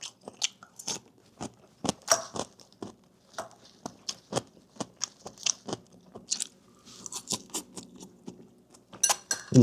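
Shrimp being eaten close up, with soft irregular bites, crunches and wet chewing sounds in quick succession over a quiet background, with no talking.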